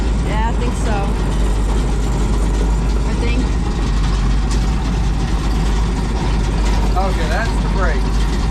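Allis Chalmers Gleaner G combine engine running as the machine starts to move, a loud low diesel drone held steady and close while people talk over it.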